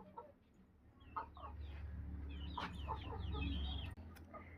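A hen clucks repeatedly and close by after laying an egg at home, a run of short choppy calls over a steady low background hum.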